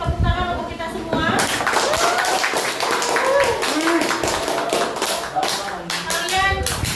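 A crowd of schoolchildren in a classroom claps together in sustained applause, a dense patter of hand claps with voices and cheers mixed in throughout.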